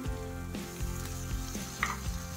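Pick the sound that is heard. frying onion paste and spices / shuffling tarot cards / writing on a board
frying onion paste and spices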